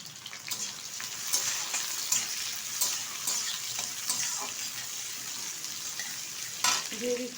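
Chopped onion hits hot oil in a pan for Bihari-style mutton, giving a steady close sizzle and frying hiss broken by scraping stirs and a few metallic clinks.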